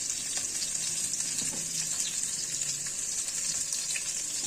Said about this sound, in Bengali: সজনাগুলো হালকা হালকা করে ভাজতে হবে।